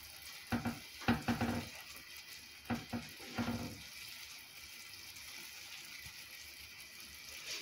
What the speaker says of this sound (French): Et donc, je vais mélanger.